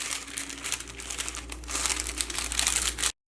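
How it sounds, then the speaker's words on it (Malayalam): Paper crinkles and rustles steadily while being folded around a small cake baked in a pressure cooker, Kerala bakery style, with dense crackling bursts close by and no voice. "ഇങ്ങനെ 2 സൈഡിലും തിരിപ്പിക്കാനുള്ള പേപ്പർ വേണം കേട്ടോ,"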